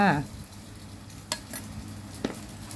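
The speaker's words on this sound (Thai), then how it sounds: "มะเขือเทศด้วยนะ มะเขือเทศใส่ลงไปเลยค่ะ" Tomatoes stirred into a hot frying pan, a soft steady sizzle with a few scraping stir strokes and light clinks, close and fairly quiet, no talking.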